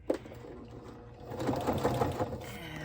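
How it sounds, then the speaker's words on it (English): A sewing machine stitches through a paper flip-flop journal base, a steady close mechanical whir that builds and holds for a few seconds with no talking. "And I am just sewing like I regularly or normally do."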